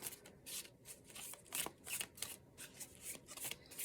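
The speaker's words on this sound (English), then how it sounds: "I have to shuffle like this because my hands are really small." Soft, rapid riffling of playing cards being shuffled, repeated bursts of papery flutter with short gaps, quiet and close.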